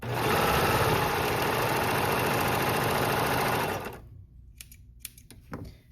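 A Babylock Accolade serger stitches a chain stitch in a steady, fast mechanical whir close by for about four seconds, then stops, leaving a few small clicks and handling noises.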